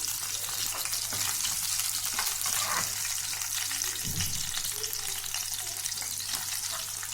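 Green chillies and chopped ginger frying in a pan for a daal mash tadka, a loud, dense, steady sizzle close by with a brief stir or clatter partway through.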